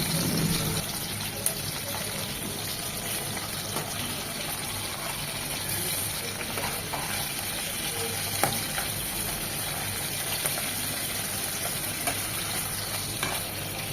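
Prawns fry in oil in a pan with a loud, continuous sizzle that stays steady throughout, broken only by a few faint clicks.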